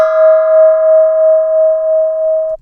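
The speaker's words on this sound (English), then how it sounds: "And here's a bell sound." A single bright bell sample tone rings out cleanly and sustains with a gentle wavering shimmer before cutting off.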